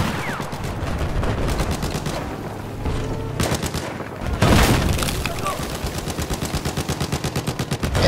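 Sustained rapid gunfire from a LAV armored vehicle in Battlefield 4, with heavy booming impacts mixed in and a regular pounding rhythm toward the end. Someone talks over the shooting throughout.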